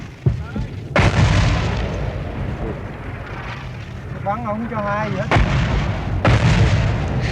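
Heavy booming mortar and artillery explosions strike repeatedly in battle fighting along a highway in South Vietnam, several sharp loud blasts over a roaring rumble, with a warbling siren-like tone midway.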